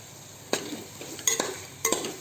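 A spoon stirs chicken biryani mixture seasoned with salt, coriander and mint, giving three separate scraping, clinking strokes at close range against quiet background hiss.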